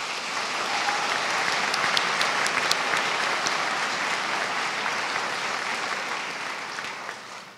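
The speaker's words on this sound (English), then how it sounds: "Let's give them a round of applause." Theater audience at a Whatcom Reads community book event in Bellingham's Mount Baker Theater gives a sustained round of applause for the library funders: dense, even clapping that swells slightly, then holds for several seconds before tapering at the end.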